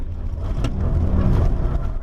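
A Nissan GT-R race car sweeps through the Nurburgring carousel in third gear, its engine a loud, continuous low drone heard from inside the car, with no talking.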